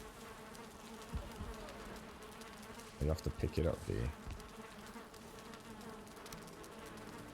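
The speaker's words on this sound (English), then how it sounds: "I can hear the honeybees. The honeybees are busy little bees." Honeybees in the video game Valheim give a soft, continuous insect buzz that hums in the background, while a person talks and a few louder thumps from gameplay break in around the middle.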